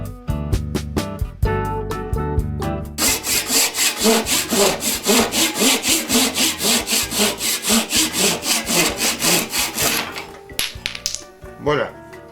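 Hand saw cutting through a wooden ball held against a shim block and clamp, loud close rasping strokes in a steady back-and-forth rhythm for several seconds, preceded by a few sharp knocks and scrapes.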